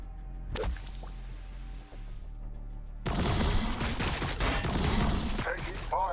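Gunfire in Warhammer 40,000: Battlesector, a sharp shot early on followed by a dense burst of rattling fire and impacts in the second half, loud and close.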